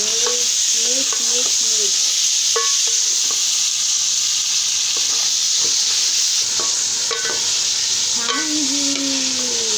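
Peas and potato pulao fries in a pot with a loud, continuous sizzle while a spoon mixes it, and someone speaks briefly over the cooking.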